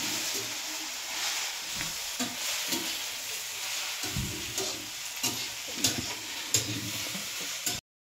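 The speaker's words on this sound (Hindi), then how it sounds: "और यहाँ पर बन रही है सब्जी" Okra curry (bhindi sabzi) sizzling steadily in a pan while being stirred, continuous frying hiss with scraping strokes and small clinks from the spoon, close and fairly loud throughout.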